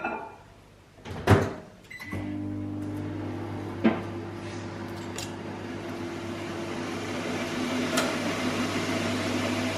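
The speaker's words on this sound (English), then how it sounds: "melt in the microwave in 20-second increments" A door clunks shut, a few clicks follow, then a microwave oven hums steadily with a low drone until the end.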